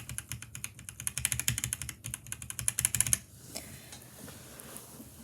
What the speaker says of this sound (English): Lubed Akko Jelly black switches. So this one sounds more scratchy than this one right here.